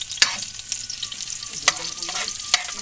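Onion and garlic sauté in a hot pan for humba, a steady close sizzle punctuated by several sharp spatula clinks and scrapes.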